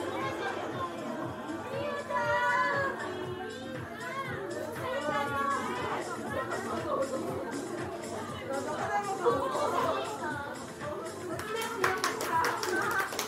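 Audience at a dance school pole dance recital claps in scattered, modest applause mixed with lively crowd chatter and voices throughout, with a brief burst of clapping near the end.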